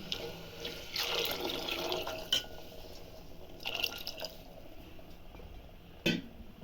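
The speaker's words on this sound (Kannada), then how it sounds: "ಬೇಳೆ ನೀರು ಹಾಕ್ತಾ ಇದ್ದೀನಿ" Lentil cooking water poured into a pan of fried masala for ridge gourd sambar splashes and trickles in two main pours, fairly faint, followed by a few drips and a small clatter.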